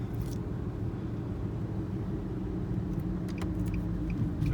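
Steady low engine and road rumble inside a 2012 Nissan Altima Coupe 2.5 S on a chilly day, constant drone with a few faint clicks near the end, no one speaking.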